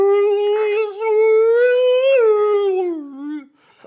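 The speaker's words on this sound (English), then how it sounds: "It's like a whale sound." A whale-like call sounds as a single loud, sustained tonal moan that holds steady, rises slightly and then slides downward before fading out, heard alone with no background noise.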